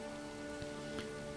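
Rain falls in the medieval city-building game Manor Lords as a soft, even patter of drops with a low steady hum beneath it, faint and constant through a short stretch.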